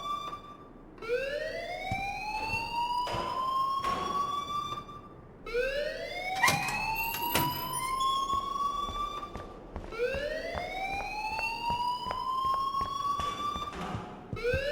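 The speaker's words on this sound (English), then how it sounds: "please turn off that alarm since that's your job" A rising electronic siren-like alarm in the video game Life Is Strange wails in repeated sweeping cycles, each climbing upward, loud and continuous with scattered clicks and no talking.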